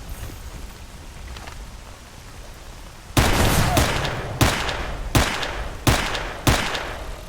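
Gunfire in the S.T.A.L.K.E.R. Anomaly game opens with a loud, close shot after a few seconds of low ambient hiss. Four or five more heavy single shots follow at roughly even intervals, each with a short echoing tail.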